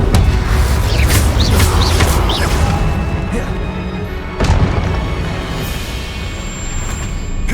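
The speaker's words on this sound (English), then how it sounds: "Incendio" Incendio fire spells cast in Hogwarts Legacy, a string of loud magical bursts and crackling blasts, with a sharp impact near the middle, over a dense, continuous background of game effects.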